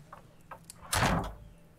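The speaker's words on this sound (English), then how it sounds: "Just close the door, shall I?" A door is pushed shut in a quiet room, giving one soft, fairly close closing thud after a few faint shuffling sounds. No one speaks.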